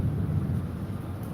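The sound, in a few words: rain during Cyclone Remal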